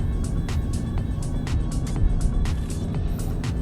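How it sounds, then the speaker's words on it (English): Car driving along a newly opened elevated expressway in Malaysia at night, with steady road and engine rumble throughout and a few brief higher hissing swells from passing traffic. "this is our first time to drive through into this newly opened highway"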